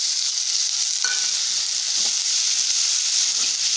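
Tomato frying with mutton masala in a pan for mutton fry, a loud, continuous bright sizzle with a couple of brief stirring clinks, with no talk over it.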